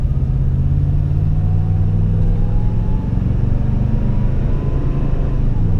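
A supercharged Toyota Tundra pickup accelerating gently at light throttle, a steady low engine drone and rumble with a faint rising whine, heard from inside the cab.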